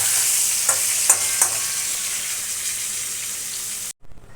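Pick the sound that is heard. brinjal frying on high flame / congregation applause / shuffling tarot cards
brinjal frying on high flame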